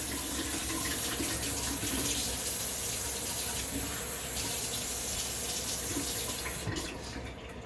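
Hot water runs steadily from a kitchen tap into a sink, a continuous close, even rushing stream that tapers off slightly at the end.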